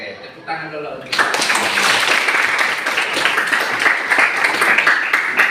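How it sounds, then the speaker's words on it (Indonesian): A class of students claps together in a classroom, giving a few seconds of dense, continuous applause. It starts abruptly after a brief spoken line from the teacher and stays loud. "Oke, tepuk tangan dulu."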